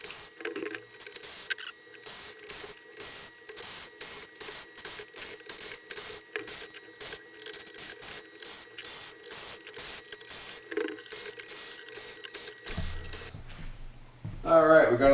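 Rapid ratcheting whir of a power screwdriver backing out pickup cover screws on a Chinese copy of a Les Paul guitar, a long steady stream of clicking bursts, close and fairly loud, ending in a brief rustle.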